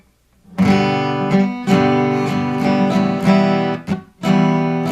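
Acoustic guitar strumming a chord progression that starts on G from the ending of a song, several loud ringing strums with brief pauses between changes, played alone.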